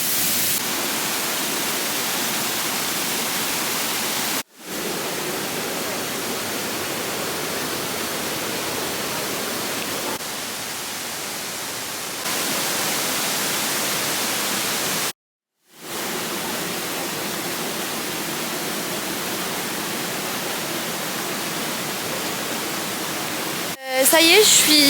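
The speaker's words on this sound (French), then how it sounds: "on vient d'arriver aux cascades" Steady broadband roar of a waterfall in Thailand, loud and continuous with brief gaps, no voices heard over the rushing water.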